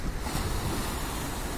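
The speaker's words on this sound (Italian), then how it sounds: "onde del mare carezzevoli" Gentle sea waves wash steadily along the Amalfi Coast, a continuous soft surf roar with light wind buffeting the microphone and no voices.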